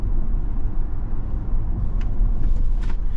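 A 2023 Ford Expedition Max King Ranch drives along smoothly, with a steady low road and engine rumble heard from inside the cabin and a few faint light clicks toward the end.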